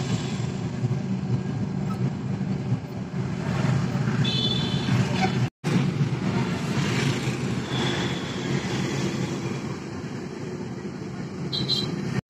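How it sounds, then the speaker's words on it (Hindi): A train rumbles past in Ranchi town, a long continuous low roar with rattling texture heard from close by, broken briefly by a short dropout, with faint tonal squeals and traffic noise around it. "देख रहे हैं ट्रेन रांची का ट्रैफिक।"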